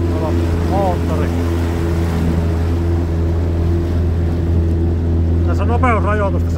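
A Mercury outboard motorboat engine drones steadily and loudly throughout, with brief voice-like sounds rising over the hum.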